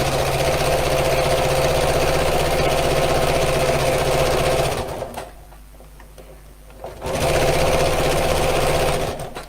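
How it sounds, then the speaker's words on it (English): A home sewing machine stitching down both sides of a fabric piece runs in a loud, steady motorized whirr, stops briefly for about two seconds, then resumes at the same even pace. "I'm going to sew down both sides here."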